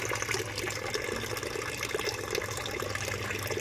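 Water rushes steadily down a pipe into aquaponics bins beside a pond, a continuous close gushing wash with no break and no voices.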